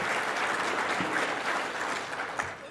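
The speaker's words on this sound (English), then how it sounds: "Let's give them a round of applause." Luncheon audience applauding panelists at a Taste of NY awards forum, a brief even wash of clapping from a moderate-sized crowd.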